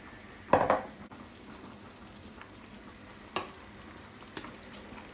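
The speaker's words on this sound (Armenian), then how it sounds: "հիմա ավելացնում եմ սխտորը, մի լավ կխառնեմ" Garlic drops into a hot pan with a loud burst of frying, then settles into a quieter sizzle while a spoon scrapes through it once or twice.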